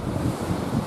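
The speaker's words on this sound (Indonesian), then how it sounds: "anginnya luar biasa." Strong wind roars and buffets the microphone on the summit trail of Mount Lawu, a steady, loud, close rush with gusty swells and no talking.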